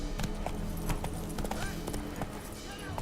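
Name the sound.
horse hooves and neighing while riding in The Witcher 3 video game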